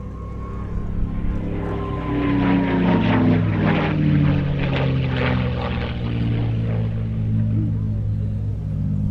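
A Curtiss P-40 fighter with an Allison V1710 engine at an airshow gives a loud, sustained propeller engine drone that swells slightly as it passes, with some faint voices underneath.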